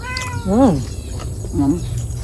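A cat meows twice, close by, with a short gap between the calls, over a steady background noise during a meal.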